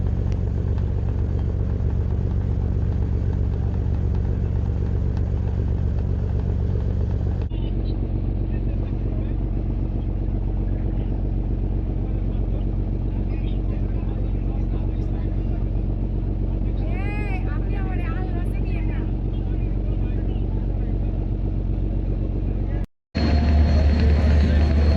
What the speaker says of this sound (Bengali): এই মুহূর্তে ঢাকা থেকে বরিশালের উদ্দেশ্যে যাত্রা শুরু করলো প্রিন্স আওলাদ 10 লঞ্চ।